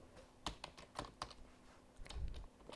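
Computer keyboard typing comes in short bursts of crisp key clicks with brief pauses between them, close and fairly quiet, with no voice.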